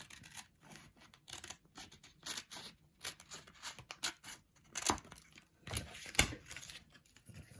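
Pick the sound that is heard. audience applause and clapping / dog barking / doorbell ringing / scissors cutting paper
scissors cutting paper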